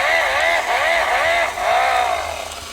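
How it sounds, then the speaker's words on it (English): A V8 engine revs up and down in repeated rising and falling surges, loud and close, with a steady mechanical whine throughout. "Hear that revving out."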